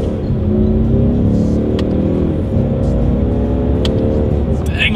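A 2020 Ford Mustang EcoBoost pulls hard through its gears in manual paddle-shift mode, the loud steady engine drone climbing in pitch, briefly dropping at a shift, then rising again, with a few faint clicks over the top.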